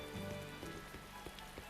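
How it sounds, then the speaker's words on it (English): Steady rain falls in the video game Tales of Berseria, a soft, constant patter of drops on surfaces with a few light taps, quiet and with no voices. "When did it start raining?"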